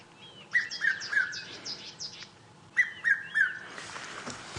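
A wild bird of a species that parasitizes starlings calls at dawn on an African safari drive, two clear bursts of rising whistled chirps with a short pause between, fairly near over quiet background.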